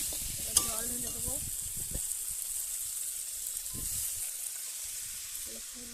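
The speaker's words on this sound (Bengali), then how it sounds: "আলু ভাজা, কচু ভাজা যেগুলো ছিল সব আমি এই মশলার সাথে মাখিয়ে দিচ্ছি" Fried potato and taro pieces stirred into spices in a pan, with a soft sizzle, scraping spoon strokes and a sharp clink near the start, steady and close.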